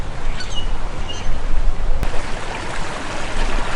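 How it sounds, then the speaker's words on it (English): Birds chirp in a few faint, brief calls over the steady rush of a nearby stream, with the water noise dominating throughout. "I think I can hear birds."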